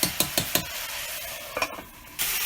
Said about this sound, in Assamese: মাজে মাজে খুলি এনেকৈ লৰাই আছোঁ মাংসটোৱে